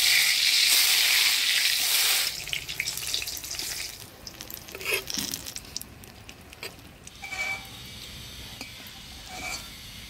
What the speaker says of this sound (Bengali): এবার বেগুন ভাজবো।